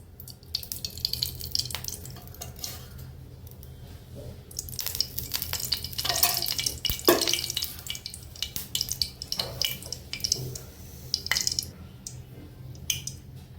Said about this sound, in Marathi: यामध्ये थोडी मोहरी टाकणार आहे। तेल आपलं चांगलं तापलेलं आहे।